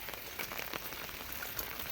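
Rain falls steadily outside a hillside house, a faint, even patter of drops on surfaces with no voices.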